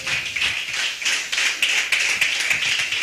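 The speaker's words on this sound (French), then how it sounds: "Donnez-le une acclamation, Seigneur." A church congregation applauds in a short burst of steady, fairly close clapping, lively and continuous, with no voices on top.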